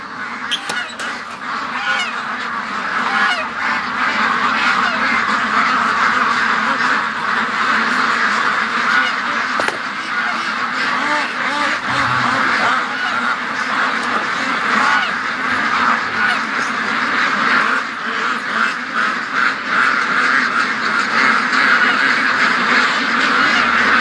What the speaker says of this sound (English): Oh, wild duck! Look at that! The little mallard!